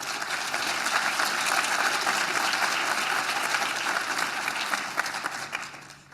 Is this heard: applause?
yes